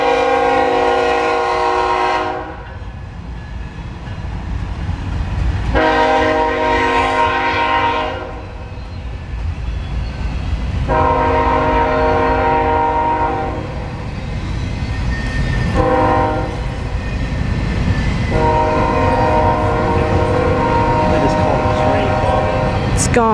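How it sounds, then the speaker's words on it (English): A train passes through Peabody with a loud, close horn sounding in several long blasts separated by gaps, over the steady rumble of the cars rolling by. "Train coming through Peabody."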